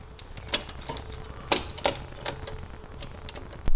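Ratchet with a 10mm socket tightening a hose clamp on a BMW E9x charge pipe, giving a run of quiet, quick clicking ticks with several sharper louder clicks spaced irregularly, close up and with no talking.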